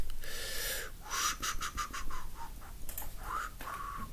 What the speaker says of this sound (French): Je sifflote et dans les oreilles, c'est pas forcément agréable.